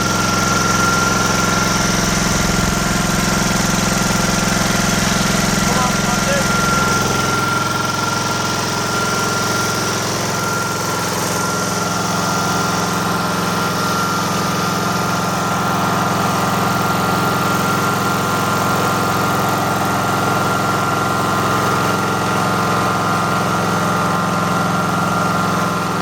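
Amtex Prowler 13hp machine engine idling at lowered RPM, a loud, steady low rumble with constant vibration and a faint whine, unchanging and close throughout the whole stretch.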